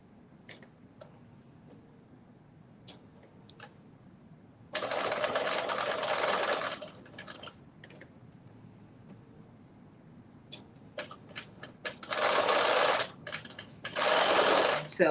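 A sewing machine topstitches over folded-in elastic in three bursts of rapid whirring stitches, one short and two longer, with quiet clicks and handling sounds between runs.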